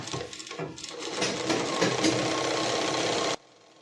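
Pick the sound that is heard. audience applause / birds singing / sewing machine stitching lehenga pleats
sewing machine stitching lehenga pleats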